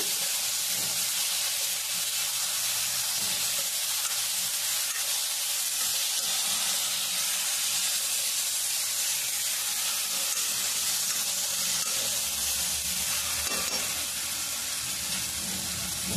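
Ginger, tamarind leaf and curry leaves frying in a pan for a tomato chutney, giving a steady, loud hiss and sizzle of hot oil with faint stirring for a long stretch, no one talking.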